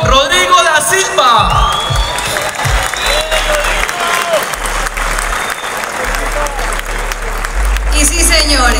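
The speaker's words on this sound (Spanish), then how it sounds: "Recibamos con un fuerte aplauso al asistente técnico Rodrigo da Silva." A stadium crowd at an América de Cali football event applauds and cheers an assistant coach, loud dense clapping with whoops and shouts while an announcer's amplified voice carries over the top.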